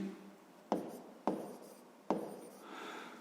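Pen on paper writing out math working by hand, in three distinct quick strokes or taps with scratchy scribbling between, close and quiet, with no voices.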